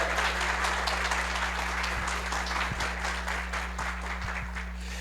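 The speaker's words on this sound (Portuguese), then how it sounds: "eu quero agora uma salva de palmas para todos vocês" An audience at a retail loss-prevention event in Mossoró applauds steadily for the full stretch, a dense wash of clapping heard from within the crowd beneath a constant low electrical hum.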